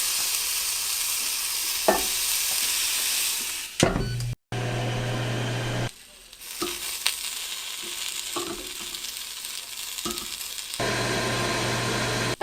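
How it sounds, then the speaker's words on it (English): Onions sizzle steadily on a Ninja Foodi Grill set to max at 510 degrees Fahrenheit. The sizzle is interrupted by brief clatters and a short gap, then continues close and fairly loud. "I grilled the onions for 4 minutes on one side"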